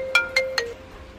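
A phone plays an incoming-call ringtone of three bright, chime-like electronic tones in an even rhythm, each ringing out briefly and the last fading, loud and close with no talk.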